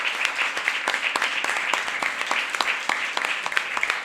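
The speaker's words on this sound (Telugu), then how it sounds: "అవి నమ్మినటువంటి వాళ్ళం గట్టిగా చప్పట్లు కొట్టి ఆరోగ్యాన్ని పెంచుకుందాం" A church congregation clapping loudly and continuously, a thick roar of many hands with sharper individual claps popping out in a fairly regular rhythm, close and sustained.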